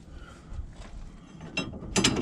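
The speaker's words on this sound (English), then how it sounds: "Now that the differential is supported, we can take these U-bolts off." Wrenches ratchet and click while U-bolts are loosened from the rear axle of a Chevrolet Silverado, giving short metallic bursts at close range with quieter gaps between them.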